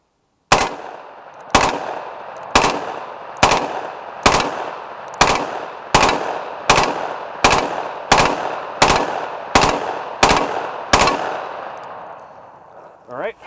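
Rapid, evenly spaced gunshots, about fifteen in a row, fired downrange at body armor to empty a final magazine; each sharp report rings out loud and close, with no talk over it.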